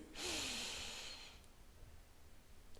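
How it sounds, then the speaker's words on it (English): One deep breath drawn in, a loud, airy inhalation lasting about a second, fading into quiet room noise. "Take a deep breath in"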